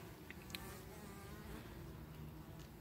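Honeybees at a hive buzz in a steady, faint drone, close by, with a few brief higher whines from individual insects passing.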